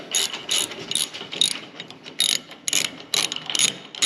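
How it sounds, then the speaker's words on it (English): A ratchet wrench adjusting a bolt on a metal ATV lift table, quick close bursts of clicking repeating in short strokes with brief pauses between them, no talking. "you just adjust that bolt, and that brings it up"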